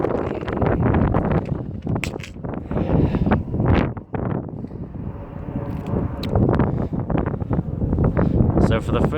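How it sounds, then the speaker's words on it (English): Strong wind gusting across open Serengeti plains, a loud, continuous roar of buffeting microphone noise that swells and dips throughout, with no clear speech above it. "Oh, wind's starting to bite again."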